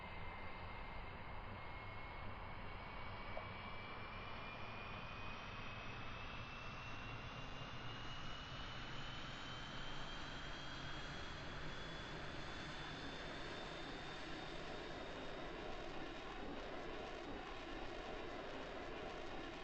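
A jet engine running on a test in the video game Kerbal Space Program: a steady loud roar and whine that slowly rises in pitch and holds for about twenty seconds with no talking.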